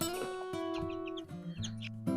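Caged chickens in a farm coop cluck in quick, overlapping calls, several birds close by with sharp repeated notes and a louder squawk at the end, no talk over them.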